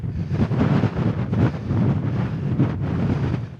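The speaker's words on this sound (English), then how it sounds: "it's really windy" Strong wind buffets the microphone outdoors on open moorland among heather, a steady low roar with gusty surges throughout and no voices.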